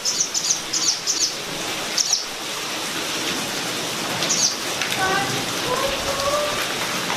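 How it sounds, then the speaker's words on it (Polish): Birds call out in short, shrill bursts near the start and again midway through, over steady rain pattering and dripping at an abandoned palace, with a few softer chirps later on. "Jak one wrzeszczą te ptaki."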